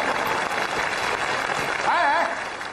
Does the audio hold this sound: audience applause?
yes